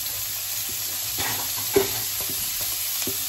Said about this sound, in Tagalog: Lagay po natin itong sibuyas.